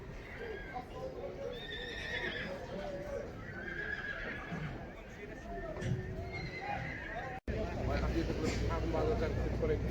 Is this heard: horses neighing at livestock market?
yes